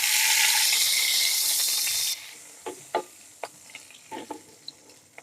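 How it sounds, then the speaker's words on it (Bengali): Rohu fish pieces frying in oil, a loud bright sizzle that suddenly drops to a quieter crackle, followed by a series of sharp clacks and scrapes of a utensil in the pan, close up, no voices. "আমি বাকি মাছটা ভেজে নিচ্ছি।"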